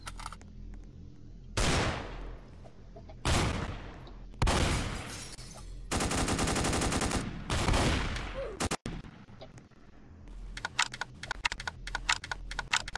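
Gunfire in a Roblox shooter game, set up with Fortnite default settings: several sharp bursts of shots about every one to two seconds, then a longer sustained volley and a quick run of rapid clicky shots near the end, loud with no talk.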